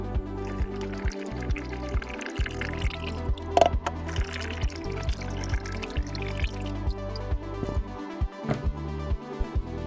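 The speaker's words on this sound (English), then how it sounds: "3 pounds of sugar going into my pot" Three pounds of sugar poured into a cooking pot while making prickly pear wine, a steady granular hiss and patter with scattered knocks and clinks, close and fairly loud, with no one speaking.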